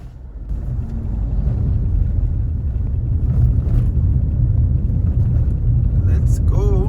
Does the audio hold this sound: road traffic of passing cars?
yes